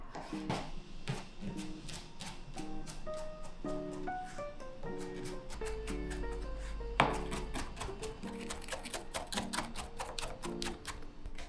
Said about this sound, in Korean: 마늘을 다져주고 페퍼론치노도 잘게 다져 잠시 옮겨냅니다